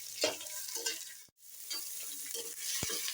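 Chopped onions sauté in hot oil in a pan with bay leaf, stone flower and fennel seeds, sizzling steadily while a spoon stirs and scrapes them in short bursts, with one brief pause.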